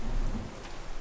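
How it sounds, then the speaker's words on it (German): Rain and rumbling thunder during a thunderstorm in the survival game The Forest, a steady wash of rainfall under a low, muffled roll of thunder. "Oh, Gewitter."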